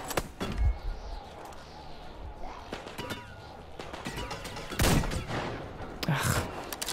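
Sniper gunfire in the video game Metro Exodus, with several sharp loud shots and impacts scattered irregularly over a busy game soundscape, some near and punchy.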